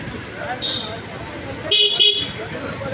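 Busy road traffic in Adoni, with a continuous roar and several car horns honking, including a louder burst of toots midway, close by and over the steady street noise.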